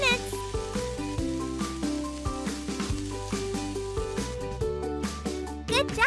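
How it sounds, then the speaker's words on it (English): A pizza tin baking in a cartoon kids' video game oven gives a steady sizzling hiss, set under bright, continuous game music with plinking notes. "Put the tin in the oven. Wait for a few minutes."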